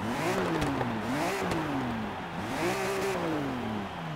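Rocket Bunny BMW M3 E46 engine revving up and down in rising and falling sweeps, with crackling exhaust overrun between revs, close and fairly loud.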